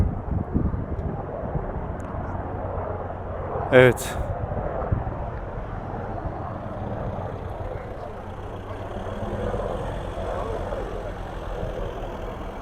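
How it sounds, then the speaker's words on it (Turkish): A steady low engine drone of a firefighting helicopter over a large wildfire in Çanakkale, Turkey, passes overhead, continuous and fairly distant, with wind and a brief spoken word partway through. "Bakın bir tane daha geliyor helikopter."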